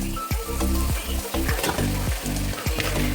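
Carrot frying with onion in a pan, a loud steady sizzle running throughout with regular rhythmic spatula scrapes about every half second.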